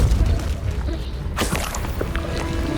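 Repulso spell cast in Hogwarts Legacy on Nintendo Switch: a sudden broadband whoosh and thump bursts in midway, over a steady rumbling game backdrop with scattered small impacts afterward.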